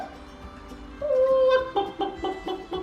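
Hens cluck nearby on a farm: a drawn-out tonal call followed by a quick run of short, rhythmic clucks, fairly close and clear.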